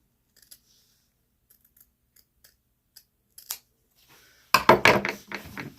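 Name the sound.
fabric scissors cutting carpet fabric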